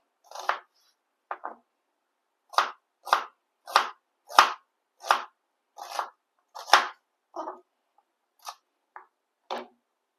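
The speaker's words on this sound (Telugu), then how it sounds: "ముందుగా ఈ ఆనియన్ని సన్న కట్ చేసుకుందాం" Knife finely chopping an onion on a board: about a dozen crisp, evenly spaced cuts, close and clear, with short pauses between them and no talk.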